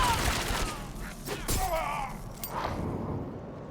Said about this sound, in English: God, the explosions are so good.